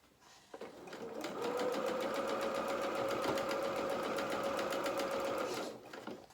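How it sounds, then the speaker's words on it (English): A sewing machine stitches down a fabric waistband in one continuous run, its needle hammering in a fast, even rhythm with a steady motor whine that starts, holds for several seconds, then stops. "just sewing that 1 centimetre waistband down"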